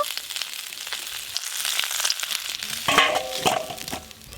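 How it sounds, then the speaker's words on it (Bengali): Potato and cauliflower sizzling and crackling in a hot pan, with occasional scraping and stirring clatters, close and steady. "খিচুড়ির জন্য আলু আর ফুলকপি ভালো করে ভাজা হয়ে গেল"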